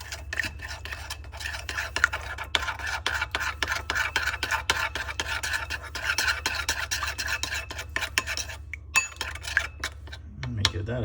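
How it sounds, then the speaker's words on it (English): A spoon stirs honey sriracha chicken jerky marinade in a bowl with rapid, continuous scraping and clicking strokes over a low steady hum, fairly quiet and close. "Now we're gonna go ahead and get this all stirred up nicely"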